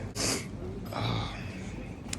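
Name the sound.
sniffing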